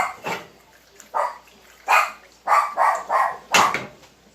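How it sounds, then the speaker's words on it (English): Several dogs bark in short bursts, agitated and frantic, about seven loud yapping barks spread irregularly over a few seconds, fairly close, with no talking over them. "Enjoy the dogs freaking out, because they're about to."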